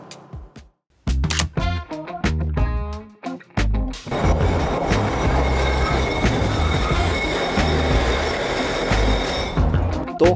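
Loud clattering of a Japanese local train on rails: a few sharp clacks at first, then a continuous heavy rumble and roar as the train runs along the tracks.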